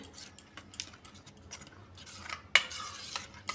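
A utensil clinks and scrapes against a bowl while rice flour batter is stirred, giving light irregular ticks and taps with one sharper knock near the end, all fairly quiet and close.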